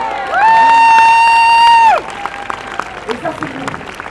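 A large crowd of about twenty thousand at a Paris march for dignity and against racism cheers and applauds, a loud sustained shout that cuts off, then scattered clapping and crowd noise continue.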